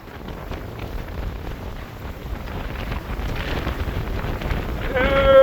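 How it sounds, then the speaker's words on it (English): Strong wind roars steadily across the microphone on a sailboat, swelling louder toward the end as a gust builds to about 20, with water rushing beneath as the rail dips. "the wind's coming back up. We're going right back up to 20, so we're getting a strong gust coming in now"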